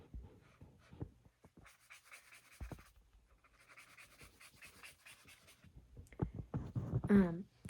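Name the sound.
drawing on paper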